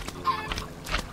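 Chickens in Minecraft clucking, a few short clucks and squawks at close range that stand out against a quiet game background.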